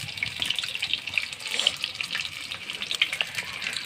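Chicken pieces coated in egg, ginger and garlic paste, cornflour, flour, black pepper and salt fry in hot oil, giving a steady, bright crackling sizzle at moderate level with no talking.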